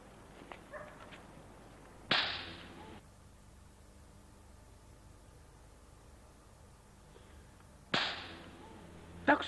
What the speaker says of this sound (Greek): Τ' άκουσες κι εσύ το χαστούκι το δυνατό?